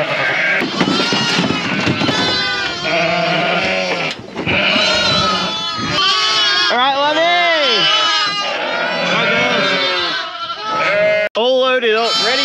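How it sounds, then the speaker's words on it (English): Sheep and lambs bleat repeatedly over a crowded livestock move during lambing, with overlapping calls close by and continuous talk throughout. "Plenty of sheep to be let out."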